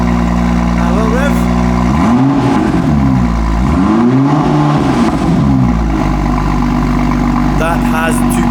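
A BMW M2 with its N55 engine revs from idle, climbing and falling twice in quick blips before settling back to a loud, steady idle, close by.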